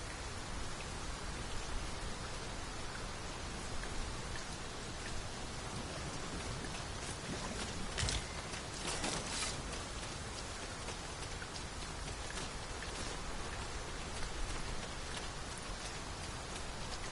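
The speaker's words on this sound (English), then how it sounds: "This downpour seems unlikely to abate." Heavy rain pours steadily in Dragon's Dogma 2, a dense, even hiss of downpour that holds throughout without pause and with no voices over it.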